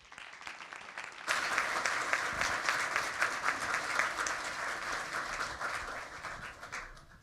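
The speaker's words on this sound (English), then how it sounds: "Please join me one more time in a round of applause" An audience at the swearing-in of a new NASA administrator bursts into sustained applause after a brief quiet start, a dense wash of clapping that holds steady for several seconds.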